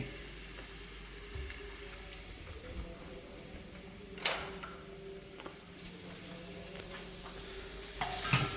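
Small onions and shallots sauté in a pan for chicken perattu, a soft steady sizzle with occasional clicks and a couple of sharp utensil scrapes, quiet and without talk.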